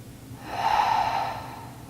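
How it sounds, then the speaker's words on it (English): One deep, slow breath taken during a yoga session, a close, breathy rush that swells and fades over about a second. "Taking one more full breath"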